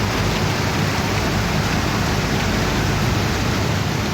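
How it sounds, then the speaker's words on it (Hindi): Heavy stormy rain falls in Karachi as a dense, steady, loud roar of downpour, unbroken for the whole stretch with no voices. "बादल अचानक बरसे और खूब ही बरसे"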